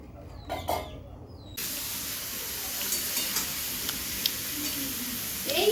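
Shrimp and pumpkin pieces cook in a pan: after a short quieter start with a few knocks, a loud, continuous broadband sizzle suddenly begins and holds steady, close up.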